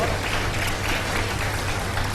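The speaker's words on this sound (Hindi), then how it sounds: "बहुत सारी तालियां दी।" A studio audience at a Ramadan iftar television show claps in a thick continuous burst, with a low hum and some voices underneath.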